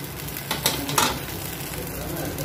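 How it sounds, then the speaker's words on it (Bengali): Vermicelli (semai) is stirred in a pan, a few quick utensil scrapes and clinks over a soft steady sizzle, fairly quiet. "তো সেই সেমাই রান্না করছি"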